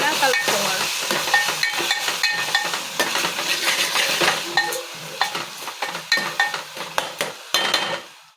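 Ginger garlic paste being stirred into red lentil curry in a pan, with a busy run of spoon scrapes and metal clinks over a continuous frying sizzle, close and fairly loud, no voices.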